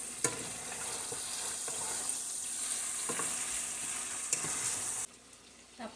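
Chicken adobo sizzles and fries in a pan while being stirred, a steady crackling hiss with occasional scraping clinks of a utensil, close up, dropping away near the end.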